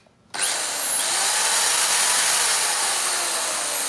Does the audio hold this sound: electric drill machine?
yes